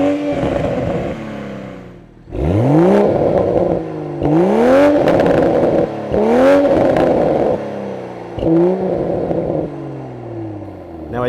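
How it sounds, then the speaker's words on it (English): A Toyota GR Supra with a manual gearbox revs repeatedly through its exhaust. Loud, close rising and falling blasts are separated by brief pauses, with pops and rumble between them. "let's take a listen to the exhaust system on this Supra"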